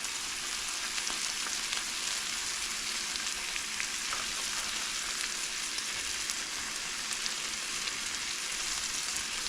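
Chicken sears in a frying pan with ranch dressing, giving a steady, close crackling sizzle with fine popping spatters throughout and no voices.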